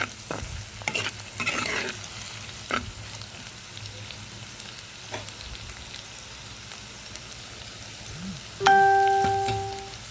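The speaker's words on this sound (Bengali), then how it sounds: "ডিমটা ভালোভাবে গাজরের সাথে মিক্স করে নিতে হবে।" Egg and carrot stir-fried for fried rice made with leftover rice, heard as a low sizzle with a few sharp utensil scrapes and taps; near the end a louder burst of frying and a faint tonal ring stand out.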